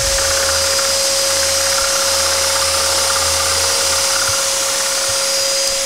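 Dust extractor running steadily while a butterfly shape is cut out for jewellery box decoration, a constant loud whooshing suction hum with a steady tone throughout, alone without talk.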